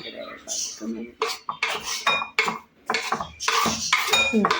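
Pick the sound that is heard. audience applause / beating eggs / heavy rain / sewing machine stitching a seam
beating eggs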